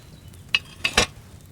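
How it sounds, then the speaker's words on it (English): Wine bubbling in a cauldron over a flame in the video game Kingdom Come: Deliverance II: a few sharp, close bubble pops in quick succession over a quiet background. "Hear that bubbling? It's boiling."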